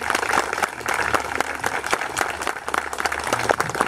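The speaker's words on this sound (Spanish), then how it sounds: "Nuevamente el aplauso fuerte para la Santísima Virgen María." A congregation claps for the Virgin Mary at a Mass honoring the Virgen de la Concepción, irregular hand claps of moderate loudness continuing steadily.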